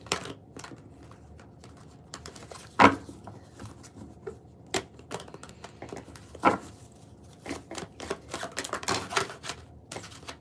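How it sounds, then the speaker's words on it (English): Tarot cards being shuffled and split close up, a run of crisp riffling clicks and soft slaps in uneven bursts across a quiet room, without talk. "This is why I keep shuffling the way that I do"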